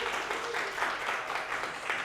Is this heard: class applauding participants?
yes